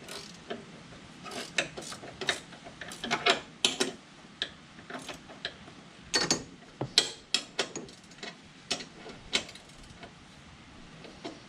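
A wrench tightening the nut back onto the bolt of a three-point hitch on a John Deere 425, 445 or 455 lawn tractor: a steady run of sharp metallic ratchet clicks in uneven bursts, close and fairly quiet, with no talking.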